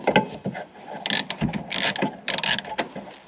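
A ratchet wrench clicks in quick, uneven bursts up close, loosening an 8 mm nut on a Tesla Model 3, sharp metallic ticking with short pauses between strokes.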